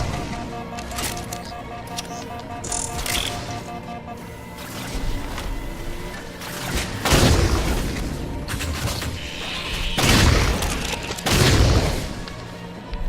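Scattershot shotgun from Halo 4 firing in a game battle, a few heavy booming blasts spaced a few seconds apart over a dense backdrop of gunfire and game noise.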